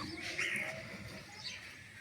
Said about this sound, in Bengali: কিছু পাখির শব্দ শুনতেছি পাখি হয়তো এগুলো আপনার টিয়া পাখি হবে